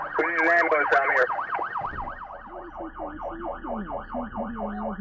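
An ambulance siren wails in a steady, repeating up-and-down cycle, loud and close, with a brief burst of higher warbling tones at the start.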